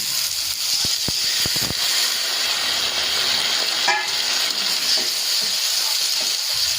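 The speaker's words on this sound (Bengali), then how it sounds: "এবার আমি এতে সামান্য পরিমাণ জল দিয়ে দেবো যে মশলা ধোয়া জলটা ছিল সেটাই আমি আলুটার মধ্যে দিয়ে দেবো" Water poured into masala frying with potatoes in a pan for a fish curry sets off a loud, steady sizzling hiss, with a few brief clinks early on and no talking.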